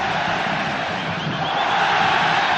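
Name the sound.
football stadium crowd chanting olé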